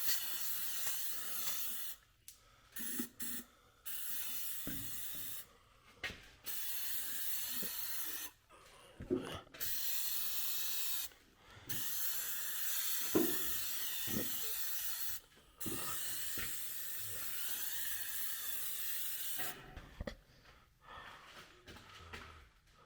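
Bursts of aerosol undercoating spray hiss on and off in irregular spurts beneath a car, loud and close, with short pauses and faint clunks between them.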